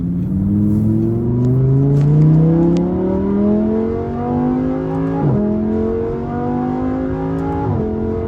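A first-generation Audi R8 Competition engine revs hard through rising gears on back roads, pitch climbing steadily with sharp shifts near the end, loud and close with no talking.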